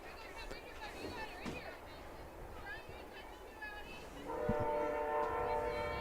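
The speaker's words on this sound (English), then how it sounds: "Five o'clock train." A train passing near a softball field during an evening game, with a sustained horn blast coming in partway through over crowd noise and broadcast commentary.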